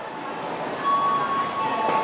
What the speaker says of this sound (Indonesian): itu dia kereta api Batubara Cigading Nambo persiapan melintas langsung di jalur 4 stasiun Tanah Abang